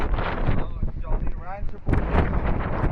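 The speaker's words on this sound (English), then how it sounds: "It is definitely very, very cold and windy." Strong, cold wind on Mount Shasta buffets and roars against the microphone in steady gusts, with a voice talking faintly underneath.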